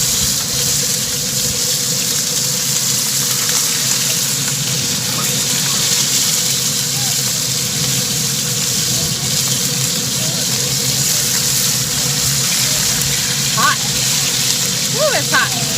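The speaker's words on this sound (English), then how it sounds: "I'm just going to put them in this pan and let them cook in that yummy bacon grease." Chicken pieces fry in hot bacon grease in a cast iron pan, giving a loud, continuous close-up sizzle that stays steady throughout.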